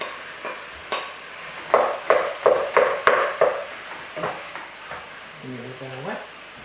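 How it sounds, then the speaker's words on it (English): Minced meat sizzles in a pan over sweating onions with a run of rhythmic scraping stirs in the middle, the frying steady and close, followed near the end by a brief low murmur from a person. "now we're gonna add our mince"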